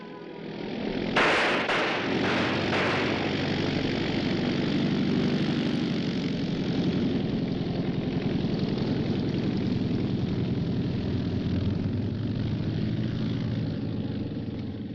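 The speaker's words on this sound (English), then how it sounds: "That's a pickup plane." A propeller pickup plane, a fixed-wing aircraft, drones overhead in a steady, loud engine roar that swells in after a few sharp knocks at the start and holds evenly to the end, with no talking.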